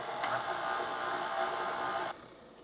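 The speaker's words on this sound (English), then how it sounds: "I'm gonna mix it until it's pretty smooth and frothy" An electric mixer whirs steadily through lemon ricotta cake batter, a close mechanical hum running for about two seconds before cutting off, leaving faint room noise.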